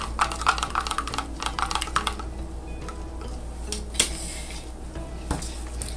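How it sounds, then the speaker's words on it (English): Mica powder being stirred into a soap mixture, heard as quick clustered clicks and taps of a utensil against a container. The taps come in busy bursts, then thin out into sparse light knocks. "I am going to stir it up in here."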